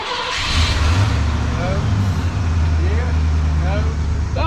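Engine of a 1987 Ford F150 pickup cranking, a loud, close, low rhythmic churn that runs through the whole clip without clearly catching, with a voice talking over it.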